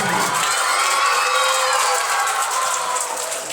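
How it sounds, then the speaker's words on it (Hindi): At a Children's Day event at S R Academy in Imampur Habibpur, Bhagalpur, a crowd applauds and cheers for Haji Abdul Sattar, a loud sustained roar of clapping and children's shouts that eases slightly at the end. "जोरदार तालियां हाजी अब्दुल सत्तार से"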